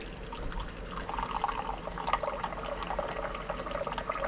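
Water runs from the spigot of a tea urn into a cup in a steady, close trickle with light bubbling and splashing, moderately quiet and unbroken by talk.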